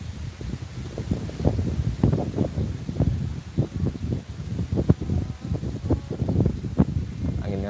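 Strong outdoor wind gusting in uneven bursts, buffeting and rustling loudly and close, with no voices.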